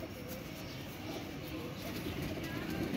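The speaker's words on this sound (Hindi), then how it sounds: "ये जी कबूतर है" A pigeon from a breeding pair coos softly in low, repeated murmurs against a faint background hum.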